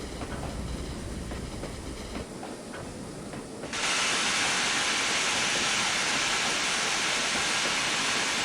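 A Standard 4MT tank steam locomotive in Trainz 22 rumbles along, then its safety valve suddenly blows off with a loud, steady hiss of escaping steam that holds to the end, with no voices.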